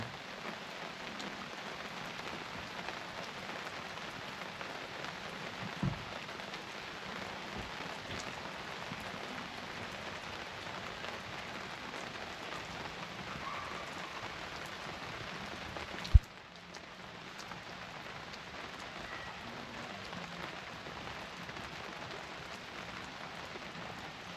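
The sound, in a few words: rain falling at a campground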